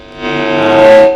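A heavily distorted electric guitar chord rings out through a Kazuki KA-20 amp and swells, sustaining loud and gritty for about a second.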